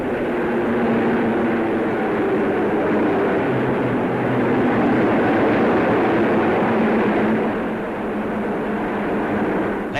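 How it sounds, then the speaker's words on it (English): Gloster Meteor jet fighters of Fighter Command in a 1953 RAF flypast make a steady, loud roar that holds for the whole stretch and eases off only briefly near the end. "Meteors now of Fighter Command."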